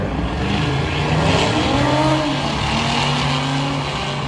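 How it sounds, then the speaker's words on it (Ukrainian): Engines of a Chevrolet SS and an Audi roar through a weekday drag race, a steady loud rumble with rising and falling rev tones as the cars accelerate, no talking. "Chevrolet SS і якась Audi. Хто ж з них переможе?"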